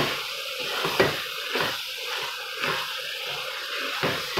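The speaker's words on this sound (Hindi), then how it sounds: "मटर और गाजर जो है ये इसमें डाल दूँगी और 3 से 4 मिनट के लिए इन्हें भून लूँगी" Peas and carrots stir-frying in a pan for a chicken vegetable dish, a steady soft sizzle broken by rhythmic scraping sweeps of a spoon every half second or so, no talk.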